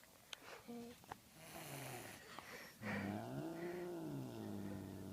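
A grumpy old cat growls low and drawn out close by, rising into a wavering caterwaul-like moan, with faint background sounds and a quiet voice at times.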